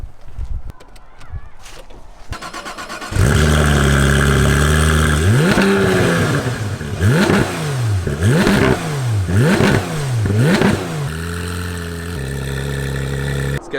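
A Porsche GT3 RS engine cranks and fires to life, then revs hard in a rising-and-falling series of sharp, loud blips before settling into a high, steady idle.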